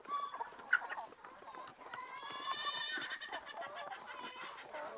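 Rhode Island Red chickens in a breeding pen cluck and squawk in a busy, overlapping chorus at moderate distance, with one sharper call standing out.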